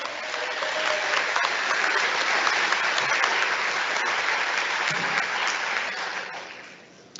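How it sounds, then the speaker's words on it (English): An audience applauds four-year varsity letterers at a high school fall sports awards ceremony, a sustained burst of clapping that gradually tapers off near the end. "let's give a round of applause to our 4-year varsity letterers"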